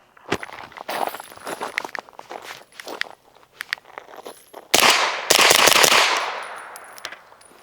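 Suppressed Beretta PMXs pistol-caliber carbine fired in a string of sharp, muffled shots at irregular spacing, followed by two louder, longer bursts near the end that trail off.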